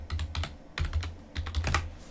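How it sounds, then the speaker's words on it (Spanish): A password being typed on a computer keyboard while logging into Linux Mint MATE: close, quick clusters of key clicks in an uneven rhythm, with no voices. "escribimos nuestra contraseña"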